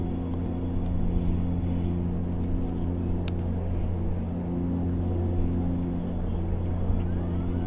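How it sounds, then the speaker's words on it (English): MU-2 twin turboprop engines in the X-Plane 11 flight simulator game hum at a steady, unchanging pitch, a continuous droning rumble with a few faint clicks and no talking. "you can tell by the pitch and the sound of the motors when I play with the throttles"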